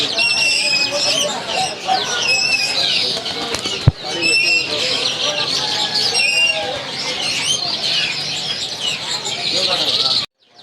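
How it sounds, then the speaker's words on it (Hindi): Indonesian myna birds caged at a busy Sunday bird market in Saddar, with dense chirps, whistles and wing flutters throughout, steady and fairly loud, beneath ongoing conversation and crowd noise. "ये इंडोनेशियन मैना है जी"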